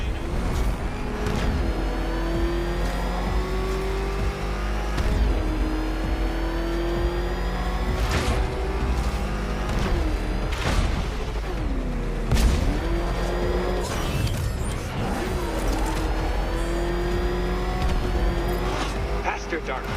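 The Batmobile engine roars and revs in the video game Batman: Arkham Knight, a loud continuous growl with rising and falling pitch sweeps and impact thuds, under someone talking.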